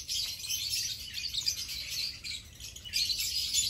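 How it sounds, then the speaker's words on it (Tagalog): Birds chirping and twittering steadily in the background, a bright, continuous chorus of small calls with no voices. "mag-enjoy na lang muna po kayo sa naririnig nyo na mga huni ng ibon"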